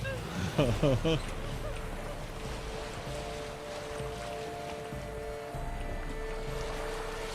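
A boat moves across open water in The Witcher 3, with a steady, low wash of water and hull noise under someone talking.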